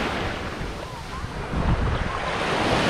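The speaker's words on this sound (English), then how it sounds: "I'll give you the ocean behind me." Ocean waves wash onto a beach in a continuous loud roar, the surf swelling stronger midway, with heavy wind buffeting the microphone.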